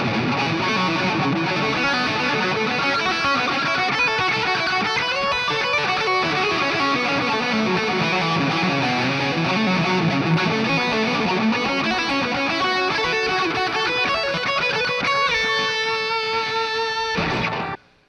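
Epiphone Les Paul electric guitar with a distorted, effects-heavy tone plays fast pentatonic licks over a backing track, loud and continuous for about seventeen seconds before stopping abruptly.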